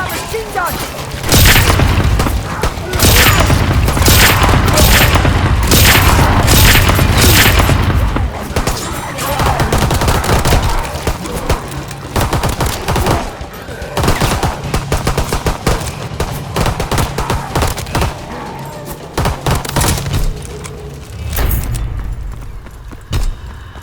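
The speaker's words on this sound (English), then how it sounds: "You can jump on that machine gun!" Machine gun fire in a Call of Duty Zombies match, loud rapid bursts mixed with heavy booms and explosions, with shouting voices over the battle.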